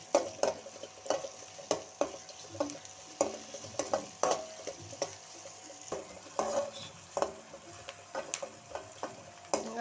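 Onions sauté in a pan for keerai poriyal, a soft, steady sizzle broken by regular scraping and tapping strokes of a spatula against the pan, fairly quiet and close, with no talking.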